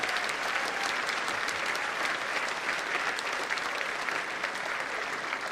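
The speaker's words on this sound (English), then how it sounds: "Can we give Mr. Tim Rutrick a round of applause" A school assembly audience gives a sustained round of applause at a Veterans Day ceremony, steady dense clapping from many hands filling the hall throughout, with no talking over it.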